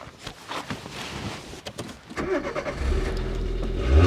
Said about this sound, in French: Je vais démarrer, vous allez voir un peu le monstre.